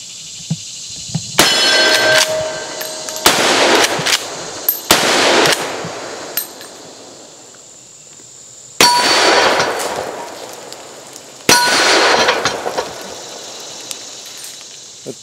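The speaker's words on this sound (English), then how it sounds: "it's an excellent gun. It's available now from Taylor's, and we're going to shoot a little bit, show you how she runs." Taylor's 1886 Ridge Runner 45-70 lever action takedown carbine fired outdoors, about five sharp loud reports spaced a few seconds apart, each with a ringing decay and lever-cycling clatter between shots.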